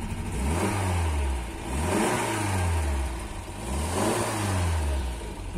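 A small old 1977 Polski Fiat engine idles with a steady low putter and gentle rises in revs, close by, with no talking.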